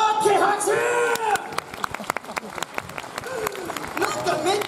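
A brief burst of audience clapping breaks out at the Universal Monster Live Rock and Roll Show 2023 at Universal Studios Japan, sitting between stretches of a host's energetic talking.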